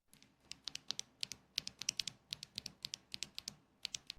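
Mechanical keyboard keys typed in a quick irregular run, each press a crisp clack with fairly soft bottom-out thuds beneath, close and alone with no talk.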